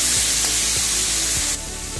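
Turmeric, cumin powder, tomato and green chili fry with a splash of water in a pan, giving a constant close sizzling hiss broken by soft rhythmic scraping from stirring.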